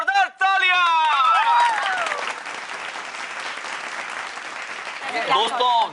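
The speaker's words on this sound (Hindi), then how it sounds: "जोरदार तालियां" Enthusiastic studio audience applause at a Hindi TV comedy show breaks out after brief voices and whoops, then settles into a steady, dense clapping that swells again near the end.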